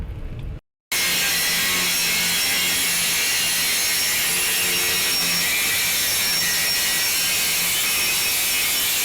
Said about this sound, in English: And you just grind them.